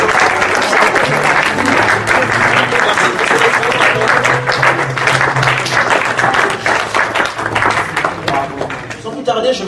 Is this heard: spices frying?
no